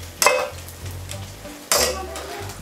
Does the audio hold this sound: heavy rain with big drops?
no